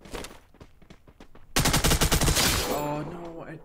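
Gunfire in the Free Fire video game: a few spaced single shots, then a loud rapid automatic burst that rattles on for about a second before fading into a ringing tail.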